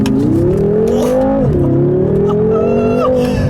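A 2014 BMW M6 Gran Coupe with a 4.4 engine accelerating hard through a corner on a back road, a loud close engine drone rising and dipping with gear changes, heard from inside without talk.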